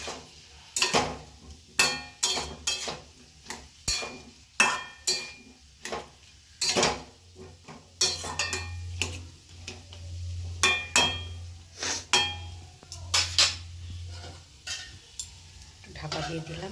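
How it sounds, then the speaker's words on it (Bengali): A pot of mixed-vegetable curry with bori is stirred with a metal spoon that clanks repeatedly against the sides over a soft background sizzle, followed by a lid being set on. "ভালো করে নাড়িয়ে চাড়িয়ে আবারও ঢাকা দিয়ে দেবো"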